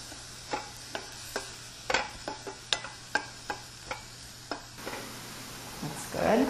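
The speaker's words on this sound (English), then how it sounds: "I'm going to melt the butter and add chopped onion." Chopped onion cooking in melted butter in a pan gives a soft sizzle, broken by repeated sharp clicks and taps as it is stirred, with the frying swelling louder near the end.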